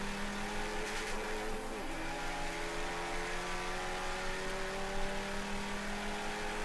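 Mazda Miata race cars in the STL class run a lap at Summit Point, with steady engine drone and rising and falling tonal whine from several cars. A brief squeal or downshift sweep comes near the start. It plays at moderate level with no talking.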